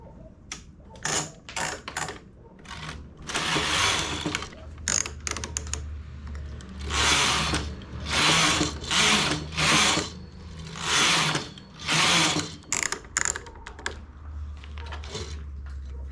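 A knitting machine carriage sweeps back and forth while knitting a double-faced beanie, giving repeated rattling, clacking passes with short pauses between them, close and fairly loud with no talk.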